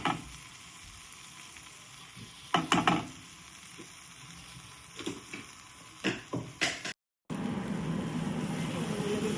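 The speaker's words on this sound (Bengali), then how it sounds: "লাল লাল করে হালকা করে ভেজে নিতে হবে" Onion and lots of garlic frying in a pan, a steady soft sizzle close up with several sharp bursts of stirring scrapes and a brief gap, and no talking.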